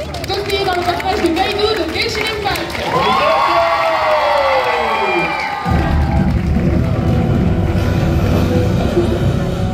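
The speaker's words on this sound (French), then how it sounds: "Faites un tonnerre d'applaudissements" Audience cheering and applause at a cosplay contest, a loud crowd roar with shouts mixed with a host's amplified voice, swelling midway and continuing steadily to the end.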